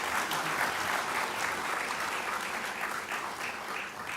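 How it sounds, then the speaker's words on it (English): Audience applause after a dance performance at an annual general meeting opening ceremony, a steady, dense wash of clapping from a hall crowd that holds evenly throughout at moderate loudness. "another round of applause for Dance in Africa"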